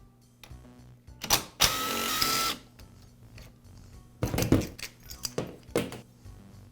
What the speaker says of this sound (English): Now I'll remove the air filter cover, the air filter, and I'll remove the air filter base and carburetor.